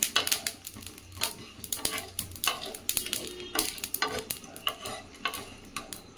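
Spices sizzle and crackle in a hot pan, with repeated scraping stirs of a spoon giving a busy, rhythmic texture.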